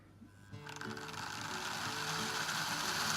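An OO gauge model locomotive straining on a layout, a faint mechanical whirring and clicking gear noise that starts after a brief pause and builds steadily louder.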